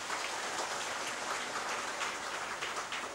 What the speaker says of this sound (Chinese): 所以也掌声鼓励